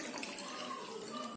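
Water poured from a small pot into a steel pot, a soft continuous splashing trickle, fairly faint and steady throughout.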